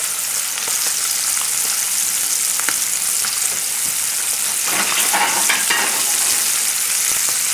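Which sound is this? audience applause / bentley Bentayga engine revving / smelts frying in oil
smelts frying in oil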